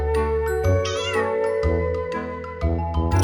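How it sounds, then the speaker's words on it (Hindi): Indoor house cat meowing several times in a row, close and clear, with drawn-out, wavering meows of varying pitch and no speech over them. "जरा इसकी आवाज सुनो, ये कितने प्यार से म्याऊं कर रही है।"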